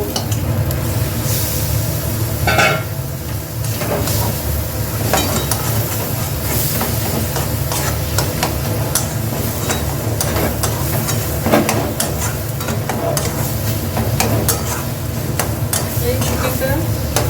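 Chicken sizzling in a hot pan while it is stirred, a loud continuous frying hiss with scattered scraping taps of the spoon against the pan, and no talking.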